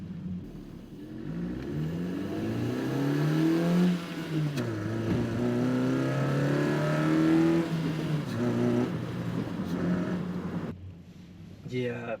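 Honda Fit fitted with an HPS intake, engine revving up to high RPM and easing back in a couple of long climbs, close and fairly loud, with a person talking over it.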